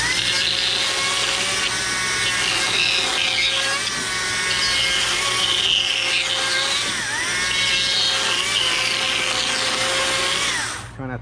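A chainsaw crosshatch-cuts wood while carving a wood spirit birdhouse. It gives a loud, continuous, buzzing engine whine with slight shifts in pitch, held steady for about eleven seconds before cutting off.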